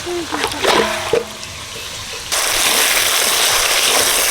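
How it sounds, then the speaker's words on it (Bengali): Water splashes and trickles off freshly washed raw chicken pieces being drained, broken dribbles at first, then a steady, louder rushing pour that runs to the end. "মাংস জল ঝাড়িয়ে নিচ্ছি"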